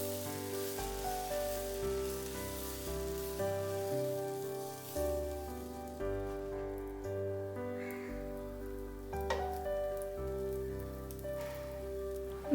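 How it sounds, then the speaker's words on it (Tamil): A dosa sizzling in ghee on a hot pan, a faint, even hiss with light crackling throughout, mostly masked by music, with no speech. "நான் வந்து தோசைக்கு என்ன பண்ணுவேன்னா நெய் விடுவேன்."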